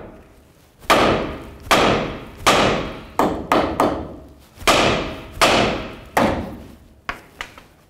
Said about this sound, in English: Continue on with your hammer. We want to carefully hit just along the knuckle